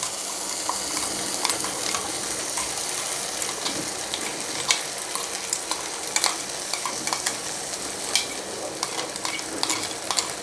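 Fine tomato, ginger and garlic paste stirred into a hot pan for a purple cauliflower curry, with a continuous close sizzle and frequent scraping, clicking spoon strokes against the pan.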